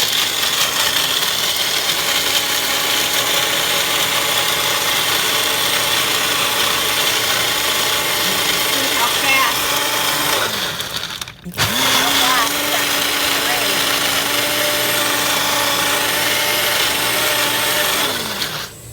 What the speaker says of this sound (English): So I'm going to puree the nuts first.